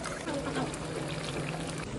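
Water being poured into a simmering curd kulambu curry on a stove gives a steady, close splashing pour under a constant low hum.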